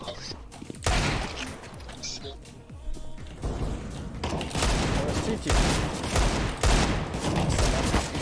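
Gunfire in the video game Counter-Strike, dense bursts of shots and impacts that carry on through the whole stretch, loud and busy, with a voice talking over parts of it.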